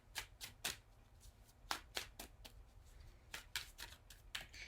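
A tarot card deck is shuffled in a run of crisp, riffling bursts, with quick card flutters coming in several clusters close up and no one talking.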